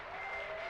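Crowd applauding in an amphitheater in the video game Dune Awakening, a brief dense burst of clapping at an even level.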